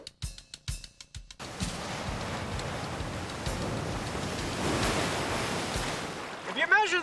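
Ocean surf washes in as a steady, wind-buffeted roar after a few sharp clicks, swelling slightly toward the end with no speech over it.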